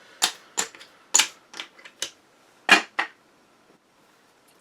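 Cards from the Too Many Bones board game being shuffled: a run of brisk, close riffling and slapping bursts, several quick flicks in succession with short pauses between, with no talk over them.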